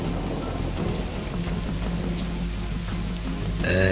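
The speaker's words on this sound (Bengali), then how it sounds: "ভিজে যাবেন তো এই বৃষ্টিতে?" Heavy cartoon rainstorm: a steady, dense roar of pouring rain with a low rumbling undertone of thunder throughout, closing with a brighter tonal flourish at the very end.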